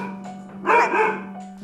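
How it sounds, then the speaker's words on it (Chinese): A household dog barks in a Longtan family home, a short burst of close barking over a steady low hum. "家里有一条狗"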